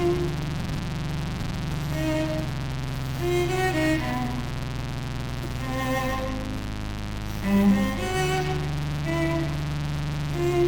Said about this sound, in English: I ran the MS-20 through this particle processor